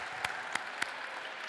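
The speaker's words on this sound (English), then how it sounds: "give them a round of applause." Basketball players clapping for teammates at a practice, light scattered applause with three sharper, louder claps standing out near the start.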